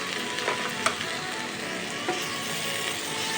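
Shredded cabbage with poppy seeds frying in a pan, a continuous soft sizzle with a few light stirring knocks, close and free of talk.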